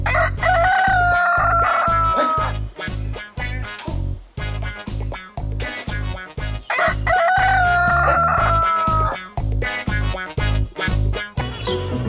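A rooster crows twice, long drawn-out calls set against a loud, steady rhythmic beat with thumping bass.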